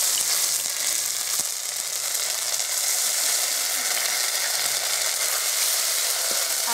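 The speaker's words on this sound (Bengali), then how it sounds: "তেলের মধ্যে আমি প্রথমে আদা বাটাটা একটু ভেজে নেব ভালো করে।" Ginger paste fries in hot oil, a steady loud sizzle with a bright hiss that holds unbroken throughout, with an occasional faint stir or scrape.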